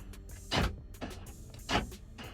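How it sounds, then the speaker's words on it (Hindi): Central door locking on a 2014 SsangYong Rexton SUV, two sharp mechanical clunks about a second apart, close and fairly quiet, with small clicks around them. "एक बटन मिलता है, जिसको अगर आप प्रेस करेंगे तो जो सारे दरवाजे लॉक हो जाएंगे"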